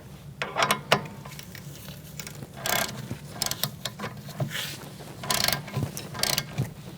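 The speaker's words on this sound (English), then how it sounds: "Tighten it down and torque it to 30 foot-pounds." A ratchet tightens a brake hose bolt on a Chevrolet Cruze, giving close, repeated clicking bursts in uneven sets with pauses between them.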